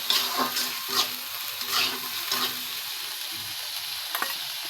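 Almond paste is stirred into a sizzling pan of egg korma: a steady close frying hiss broken by rhythmic scraping strokes of the spoon, with no voices.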